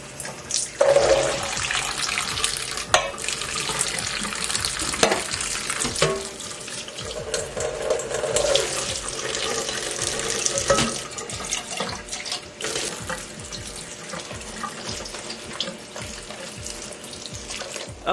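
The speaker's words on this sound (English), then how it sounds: "rinse it with cold water." Cold tap water runs into a sink while canned beans and corn are rinsed, a steady hiss of water broken by occasional clatter and sloshing, with no talking.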